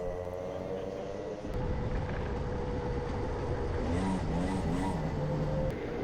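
Club100 racing kart engine droning steadily nearby, rising in pitch as it pulls out of the pits on a fresh kart, with wind buffeting and faint voices underneath.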